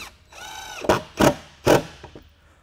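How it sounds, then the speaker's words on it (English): Number 10 screws, 1¼ inch, being driven to fasten a solar panel onto an RV roof: a short whirring spin followed by three sharp, loud ratcheting bursts at close range, with no talking. "we're going to use 1¼" number 10 screws to screw the panel down with."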